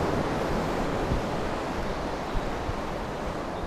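Wind roars steadily past the ears of a cyclist riding into a diagonal headwind on a road trip, a dense, unbroken rushing buffet with no talk.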